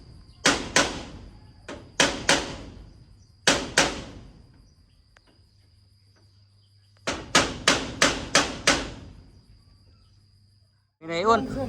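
Sharp, close hammer blows ring out while a shop is being built, struck in quick clusters of two or three and then a run of five, with a voice starting at the end.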